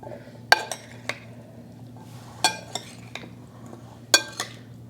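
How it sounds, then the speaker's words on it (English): Metal utensils clink and scrape against a bowl while an avocado salad is gently folded, a few sharp, close chinks spaced out amid quieter stirring, with no talking. "now I'm just going to carefully fold the salad"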